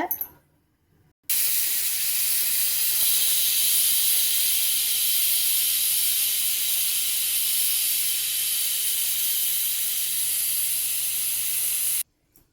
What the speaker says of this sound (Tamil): ஒரு நாலு விசில் விட்டு இறக்கிக்கோங்க